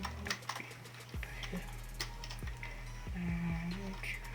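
Keys clatter on a computer keyboard while text is typed for a custom thumbnail logo, a quick run of close, crisp clicks over a low steady background hum.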